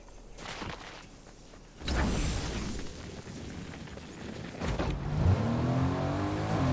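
A car in the Fortnite video game drives off, its engine roaring up loud and steady after a short pause, with a rumbling surge and a second burst of acceleration near the end, alone without talk.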